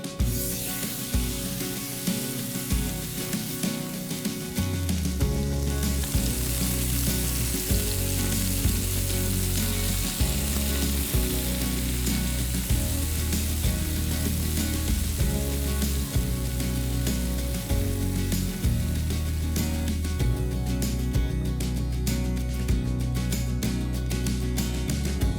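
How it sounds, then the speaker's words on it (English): Seasoned tri-tip steak sears in a hot pan, giving a steady, loud sizzle and crackle that runs unbroken throughout, with no voices over it. "Now we're gonna put it in a hot pan, let it cook 5 to 7 minutes on each side until it's formed a beautiful crust."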